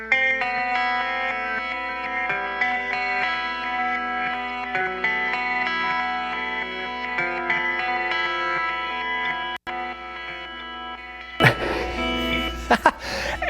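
Electric guitar run through a Boss DD5 digital delay pedal, sustained shimmering notes with echoing repeats layered over a steady low hum, ending in a burst of noisy handling sounds.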